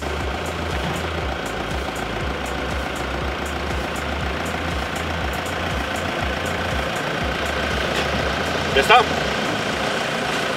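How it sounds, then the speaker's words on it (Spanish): A Mercedes-Benz E-Class runs with a steady, even engine hum while being driven out of a parking space by smartphone remote, close and constant throughout, with a brief knock near the end. "Abrimos, cogemos nuestro smartphone y sacamos el coche desde aquí."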